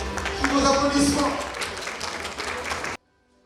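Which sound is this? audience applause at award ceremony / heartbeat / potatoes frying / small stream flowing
audience applause at award ceremony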